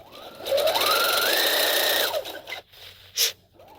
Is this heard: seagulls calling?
no